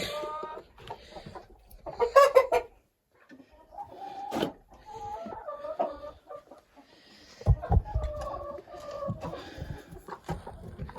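Several chickens cluck and squawk nearby, with a rooster-like call rising partway through, over scratchy movement sounds.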